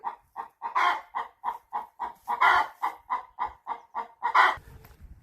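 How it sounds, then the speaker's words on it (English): Farmyard hens cluck loudly and close by in a steady run of about fifteen rhythmic bursts, a few louder squawks standing out, ending with a brief rustle. "did you hear them hens? They were kicking off then"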